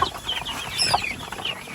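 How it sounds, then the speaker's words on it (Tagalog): Farmyard chickens cluck softly but steadily in a brief burst, a few birds chattering nearby without any speech. "Mga manok."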